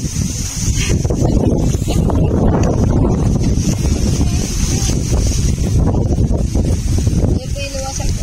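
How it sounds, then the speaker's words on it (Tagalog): Strong wind roars and buffets the microphone continuously on a mountain peak in Tanay, Rizal, a loud rushing noise throughout with faint voices underneath. "Mahangin-hangin."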